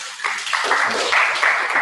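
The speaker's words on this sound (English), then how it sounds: "Give Queen a clap, please." A class claps briefly for a student during an online lesson, a short close burst of several people's hands that sounds loud and a little uneven.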